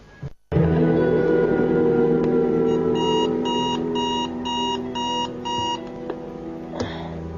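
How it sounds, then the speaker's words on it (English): An alarm clock goes off loudly and close by, a steady electronic tone broken by a rapid series of repeated beeping pulses, with no talking. "Why did the alarm go off?"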